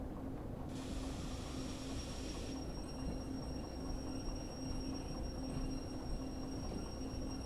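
Train wagons in the Derail Valley video game roll slowly into a siding, giving a steady low rumble with a sustained steady hum and a brief high squeal near the start.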